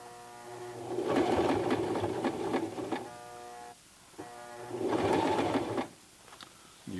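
A Toyota FSG325 sewing machine stitches around a denim jeans hem and over the thick side seam, its motor whirring in two steady runs with a short pause between them and another brief start at the end.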